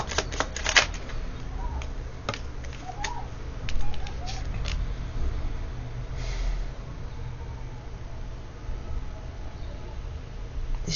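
Tarot cards are shuffled and drawn for a reading, giving soft riffling and sharp flicks and snaps scattered through a quiet room, close and fairly faint.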